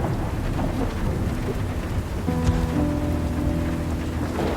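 A thunderstorm with steady heavy rain, a dense rushing hiss joined by low rumbling thunder and faint sustained musical tones, with no talk.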